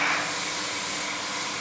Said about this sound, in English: So now they are both spraying so that I can check and see that the system is working.